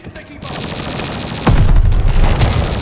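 Video game gunfire on a busy battlefield: a constant rattle of distant shots, then a loud, close burst of automatic fire that thickens the noise for the last second, with voices faintly underneath.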